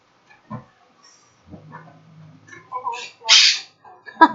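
A pet finch gives a few short chirps and squawks at close range, mixed in with a person talking nearby and a low hum.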